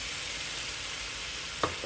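Frozen onions sauté in a pan with a steady, close sizzle and hiss, and a brief stir or clink near the end.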